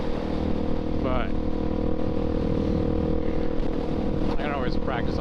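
A Suzuki DRZ400SM motorcycle fitted with an MRD Z-PRO exhaust rides along on its first ride, with a loud, steady engine drone and exhaust note throughout and a person talking over it.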